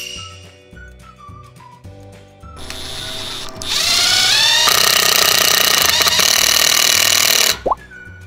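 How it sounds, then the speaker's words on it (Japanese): A drill whirs and ratchets, then a self-drilling screw bites into steel through wood with a loud, sustained grinding screech for several seconds before stopping abruptly. "テクスビス、ドリルネジを使用して"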